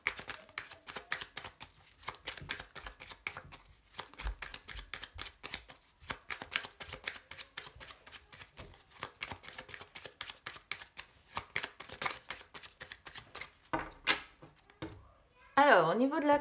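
Tarot cards being shuffled and cut by hand, a dense run of soft rapid flicks and riffles that continues steadily, quiet and close, with a brief louder handling noise near the end.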